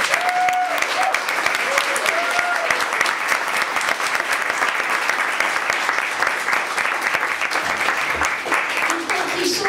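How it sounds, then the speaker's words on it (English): A crowd applauds Katie Manning at a comedy gig, dense continuous clapping holding at an even level for about ten seconds, with a few faint voices mixed in. "So please give a big round of applause for Katie Manning."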